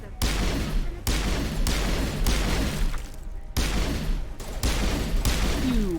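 Repeated sci-fi gunfire blasts at the Thorian node in Mass Effect, loud bursts and steady fire across the whole span, with a game score underneath.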